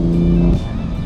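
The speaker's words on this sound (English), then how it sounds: "some of those blow-off noises really just get me so good" Modified BMW M4 Competition F82 with downpipes and intakes, its engine droning loudly close by, then cutting off sharply mid-clip into a softer rush, like a blow-off valve venting.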